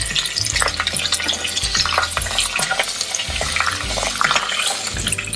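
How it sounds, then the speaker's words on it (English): Green chilies and curry leaves frying in a pan over low flame, a steady close sizzle with stirring scrapes throughout, no talking. "I'm going to add about 4 green chilies,"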